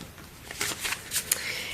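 A deck of tarot cards is shuffled close by in a short burst of quick riffling and papery flutters lasting under two seconds.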